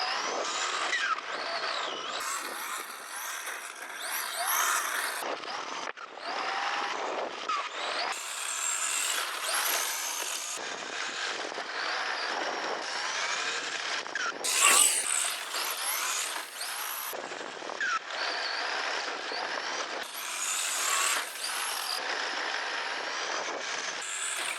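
Electric motor of a remote control Datsun 240Z model car, a steady turbine-like whine rising and falling as it accelerates and slows, loud and close throughout with no talk.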